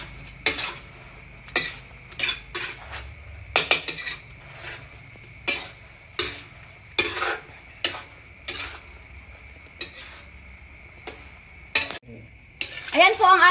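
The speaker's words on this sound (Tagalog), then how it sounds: "Iko-coated lang po natin yung ano, yung tokwa sa may sauce." Fried tofu being coated in sauce in a pan, a run of sharp utensil clacks and scrapes against the pan over a faint sizzle, irregular and close, ending in a louder clatter.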